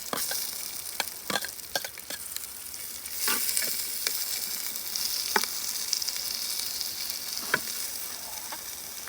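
Sliced onions sizzle and fry in hot oil in a pan, a steady crackling hiss that swells a few seconds in as they hit the oil, with sharp pops scattered throughout and no talking.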